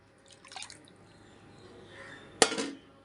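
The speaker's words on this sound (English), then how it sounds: "the water is hot in the pot. I am adding this to the" Soaked tur dal and water poured into a pot of hot turmeric water: faint soft trickles, then one sharp close splash with a short liquid tail near the end.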